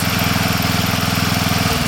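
A Koham remote-control lawn mower's engine runs loud and close with a steady, throbbing drone and regular pulsing, its pitch shifting slightly near the end, with no one speaking.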